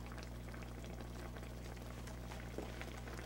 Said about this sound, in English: we can see that it's starting to boil